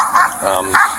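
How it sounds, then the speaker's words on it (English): A dog in a Florida neighborhood gives a few sharp, loud barks close by, in quick bursts about half a second apart, mixed with a person talking. "That's just the dog."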